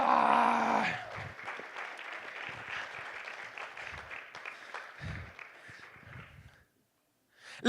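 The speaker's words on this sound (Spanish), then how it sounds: "Dale un fuerte aplauso." A church congregation claps during a worship service after a call to applaud, loud at first and then a steady crackle of clapping that fades out near the end, with scattered voices underneath.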